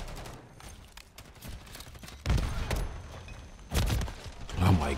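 A WSP 9 submachine gun fitted with a conversion kit fires in MW3 in dense, rapid bursts, with loud volleys standing out against a busy, cluttered game mix. Some thumps are heard as well.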